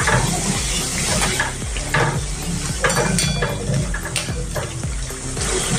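Namkeen snack frying in hot oil, a loud steady sizzle with a spoon stirring and scraping the pan in repeated strokes, close and continuous with no talking.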